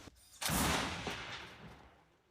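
A single loud gunshot from a remote-controlled turret cracks out, then rolls away in a long echoing decay through open surroundings.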